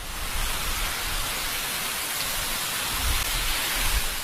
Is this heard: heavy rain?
yes